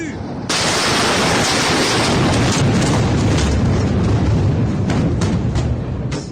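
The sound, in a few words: explosion in Lebanon, news footage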